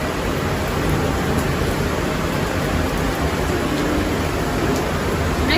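Steady rain falls outdoors as a dense, even hiss that continues unbroken for several seconds at a constant level, with no voices.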